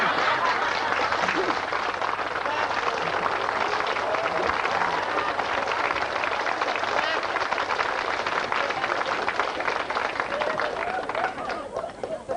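A studio audience at a game show applauds in a long, steady roar of dense clapping, sustained at an even level without letup, with faint chuckles and crowd noise mixed in.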